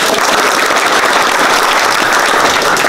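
An audience applauds a young winner at a center, giving a loud, dense, steady wash of many hands clapping that holds evenly from start to finish.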